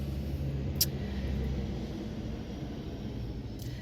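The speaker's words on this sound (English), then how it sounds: "Hold on, there's a loud truck." A loud truck passes outdoors, a broad low rumble that stays steady and close for several seconds, with two faint sharp clicks near the start and the end.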